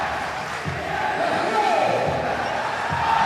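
A big indoor crowd roars steadily through a pro basketball league game between Sunrise Youngsters and NS Matrix, a loud continuous swell of cheering with faint thumps underneath.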